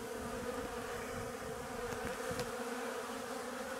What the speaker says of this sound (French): On peut voir les abeilles toujours aux abreuvoirs, elles viennent récolter l'eau